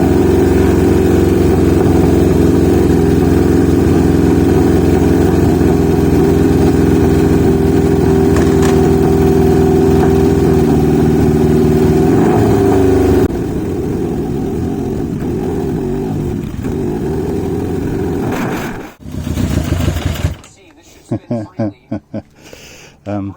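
A 1980 Yamaha XJ650 motorcycle engine idles loudly and steadily for about thirteen seconds, drops to a quieter rougher running, then stumbles and cuts out into a few sputtering bursts as it dies.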